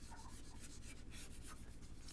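Continuous close-up scratchy rubbing of sandpaper on a car headlight, a dry, even abrasive hiss with a soft back-and-forth rhythm.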